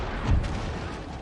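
A single deep cannon boom from artillery in the strategy game Empire: Total War, a short heavy blast with rumbling tail amid battlefield noise, no voices.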